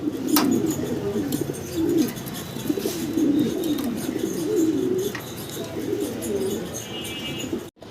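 Black Lahori pigeons coo in a steady series of low, rolling calls, fairly close and continuous, with a few faint higher chirps and wing rustles around them.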